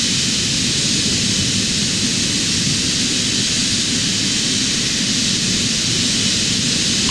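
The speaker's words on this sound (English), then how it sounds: "All we gotta do is left is just taxi to the runway." A Boeing 777 taxis toward the runway in Microsoft Flight Simulator 2020, a steady, dense engine roar with a broad hiss that holds constant throughout with no voices.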